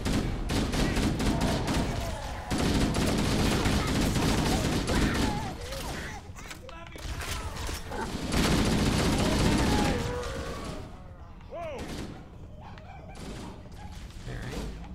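Dense rapid gunfire from a Halo firefight on Xbox, bursts of shots and booming impacts crowding together, loud and close, easing into quieter stretches before another heavy volley.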